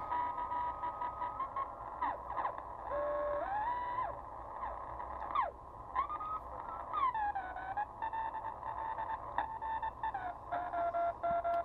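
A Yaesu FT-101EE ham radio transceiver gives a steady, slightly rough CW tone that wavers and slides in pitch, with sweeping whistles as it is tuned. The receiver hiss stays constant underneath, and no one speaks.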